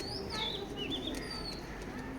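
Pigeons at a breeder's loft in morning sunlight, with continuous chirps and calls over a steady ambient hum, wing flutters mixed in, no speech.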